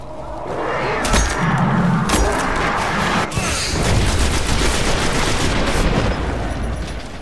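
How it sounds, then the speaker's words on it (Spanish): Dense gunfire from the video game Destiny, rapid bursts and booming shots crackling continuously at close range with a few heavier explosive hits. "Pero yo creo que al caballero le están disparando sus propios."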